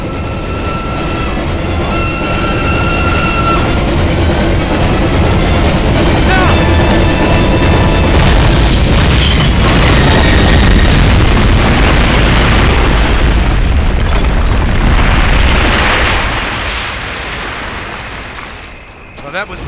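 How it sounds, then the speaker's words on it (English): Explosives detonated in the World War II shooter Call of Duty: United Offensive, a long, loud, roaring blast and rumble that swells and sustains for many seconds over game music before fading, with voices talking during it. "Detonate on my command."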